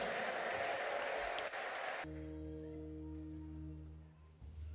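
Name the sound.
congregation applause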